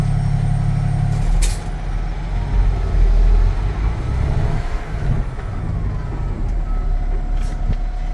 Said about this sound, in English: I'm going to get my truck up to 5 miles an hour and then apply that service brake.